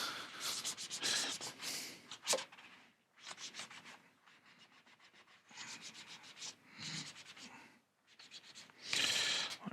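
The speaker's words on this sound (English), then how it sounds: "Now I should just be able to, yeah, scrape that off like so," Sticker residue is scraped off the back of a recycled disk with short, raspy scraping strokes in uneven bursts and brief pauses, close and fairly quiet.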